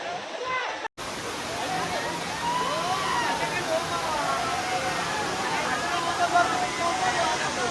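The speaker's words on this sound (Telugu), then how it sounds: "ఇది ఫ్రెండ్స్ మన పాండవలంక వాటర్ ఫాల్స్, జాఫర్ ఖాన్ పేట" Pandavalanka waterfall at Jafar Khan Peta pours with a continuous, even roar of rushing water after a brief cut at the start, with a voice faintly present under the noise.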